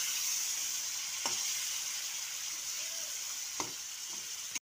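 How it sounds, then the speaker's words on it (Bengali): Chopped tomatoes fry in hot oil with Kashmiri chili powder in a pan for a potato curry, a steady close sizzle with a couple of faint spoon scrapes and no talking. "টমেটোটা দিয়ে একটু ভাজা ভাজা করে নেব।"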